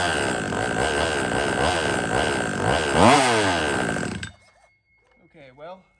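Gas engine of an HPI Baja 5B RC car fires up and revs hard under a bit of throttle, a loud raspy buzz with rising and falling pitch for about four seconds, then cuts off abruptly, followed by someone speaking briefly.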